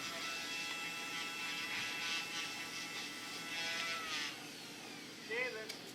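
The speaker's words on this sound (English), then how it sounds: "Let's just turn the grinder on." An electric grinder used for trimming a horse's hoof hums with a steady buzzing whine throughout, fairly close, with a faint animal sound near the end.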